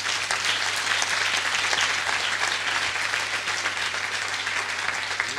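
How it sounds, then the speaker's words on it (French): A gala audience honoring a family at an evening event, many hands clapping in a loud, steady, sustained roar of applause with no breaks. "à qui je veux qu'on applaudisse tous très fort maintenant"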